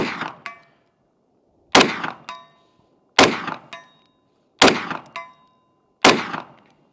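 A Grand Power Stribog SP9A3S with a five-inch barrel fires at a steel BC-zone target at 100 yards: five evenly spaced loud shots, each followed by the ring of the steel being hit.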